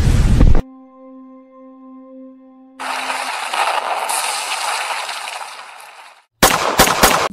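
An FX DRS PCP air rifle is fired in a quick set of sharp, loud reports, with a broadband burst of mechanical noise between them and near silence at the gaps.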